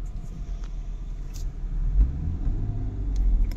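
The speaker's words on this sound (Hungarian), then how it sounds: "Íme már is jár a 6-hengeres csoda masinánk." A Lexus IS200 six-cylinder engine idles steadily after starting, a low, even rumble that rises slightly toward the end, close by with no talk.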